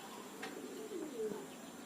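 Racing pigeon gives a soft, low coo, faint and slightly distant over a quiet hiss of background noise, with a light chirp just before it.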